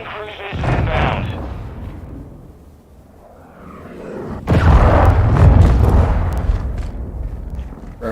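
Large explosion from a friendly cruise missile strike in Call of Duty, a heavy booming blast that swells up and rumbles on for several seconds after an earlier, softer boom, amid battlefield game noise.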